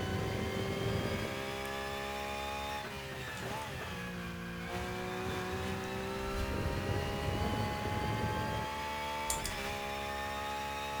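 A Porsche GT race car engine in the racing game Rennsport revs and shifts through gears, its harmonic drone rising and falling steadily at moderate volume.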